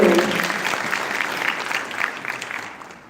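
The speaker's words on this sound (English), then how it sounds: "please help me give them a round of applause" A conference audience gives a full round of applause for seated presenters at a clean-air city session, loud dense clapping that starts strongly and tapers off over about three seconds.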